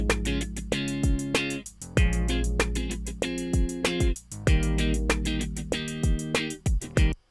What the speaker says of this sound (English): if I fill up all of these bars with hi-hats